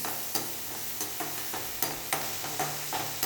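Wheat rava kichadi ingredients with roasted peanuts and turmeric roasting in a pan, a steady close sizzle broken by regular scrapes of a spatula about twice a second.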